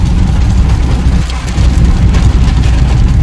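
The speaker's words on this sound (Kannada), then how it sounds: "ಅಚಾನಕ್ ಸಡನ್ ಆಗಿ ಮಳೆ ಬರೋದನ್ನ ಆಯ್ತು." Steady, dense hiss of rain pouring down close by, a continuous wash of noise with no voices.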